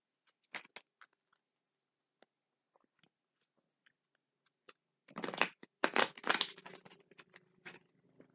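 Tarot cards are shuffled by hand in a quiet room, starting with a few sparse taps and rustles before bursts of brisk riffling and flicking in the second half.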